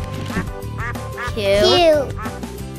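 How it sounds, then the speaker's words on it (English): A duck quacks loudly in a short nasal burst midway, over busy background music. "Quacking duck."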